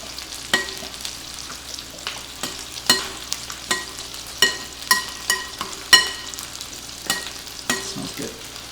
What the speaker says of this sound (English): our special ingredient here, Coca-Cola. And we're going to stir that up real good so it combines